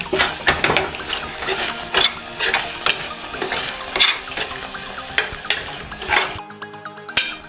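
A spoon stirs a melting mixture of grated coconut and sugar in a pan, scraping in repeated rhythmic strokes over a soft sizzle, close and fairly loud, ending in a brief silence.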